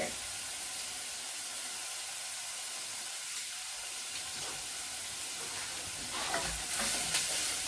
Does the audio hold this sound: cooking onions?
yes